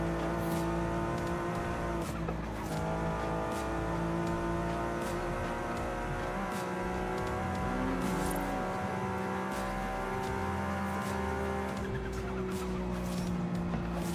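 Angry GTS sports car running fast, a sustained high-revving engine drone with steady tonal harmonics and a brief dip and shift midway, loud and continuous without any talk.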